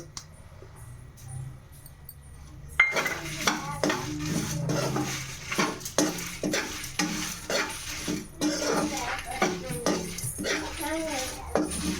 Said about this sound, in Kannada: ಇದೆಲ್ಲ ಚೆನ್ನಾಗಿ ಫ್ರೈ ಮಾಡಿದಾದ ನಂತರ ಗಸಗಸೆ ಬೇಗ ಹಿಂಗೆ ಹಾಕಿ ತೆಗಿಬೇಕು, ಇಲ್ಲಾಂದರೆ ಸೀದ್ಬಿಡುತ್ತೆ ಅದು